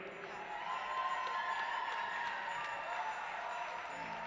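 A vociferous Australian crowd cheers at a junior track cycling world championship, a steady distant roar of voices filling an indoor velodrome, even and sustained throughout.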